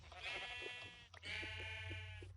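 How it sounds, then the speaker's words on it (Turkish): A sheep in the video game Minecraft gives two close, clear bleats in quick succession, each a wavering nasal baa, against faint background hum. "koyun koyun koyun. Oo kahverengi koyun."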